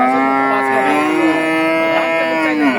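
A cow at a busy cattle market lets out a long, loud, drawn-out moo close by, carrying on for several seconds without pause.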